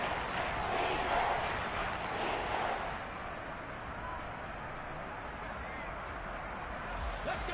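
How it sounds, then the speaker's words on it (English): Steady stadium crowd noise from a Madden football video game swells and roars loudly throughout ahead of a big third down, with a broadcast-style commentator talking over it. "The crowd getting into it as we come up on a big third down"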